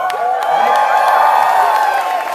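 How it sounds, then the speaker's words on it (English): Fans in a crowd at a Star Wars stage event at Disney's Hollywood Studios cheer and whoop loudly, a bright, close burst of voices that holds steady for a couple of seconds. "So I think we do have one or two Boba Fett fans in the crowd."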